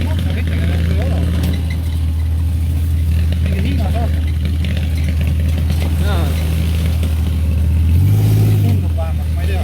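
A dune buggy with a bare metal frame idles with a low, steady drone in the Dominican Republic countryside, mostly under people talking in Estonian, and the engine swells briefly near the end.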